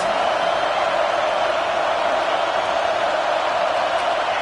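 A football stadium crowd roars for the defense on a big third down in the red zone, a loud, dense, unbroken wall of cheering noise held steady throughout.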